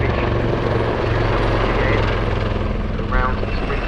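A Westland Wildcat helicopter roars through a solo flying display at Cosford Airshow 2024, its engine and rotor drone loud and constant, with a commentator's voice heard faintly over it.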